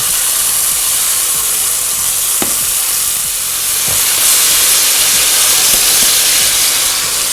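Marinated pork loin chops sizzle in a pan with a loud, continuous steamy hiss and a few faint clicks.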